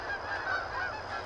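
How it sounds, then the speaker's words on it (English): Geese honking on a farm, a dense cluster of overlapping nasal honks from several birds, loud and close, continuous through the short moment. "And geese."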